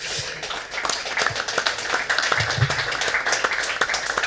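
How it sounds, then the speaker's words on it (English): Scattered audience clapping for event sponsors at an urban mobility hangout in Porto, a patchy spread of hand claps of moderate loudness with faint voices mixed in. "I ask for a round of applause for them too."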